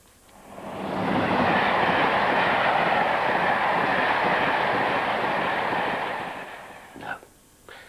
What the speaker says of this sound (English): Grandad did go by train. Like this one.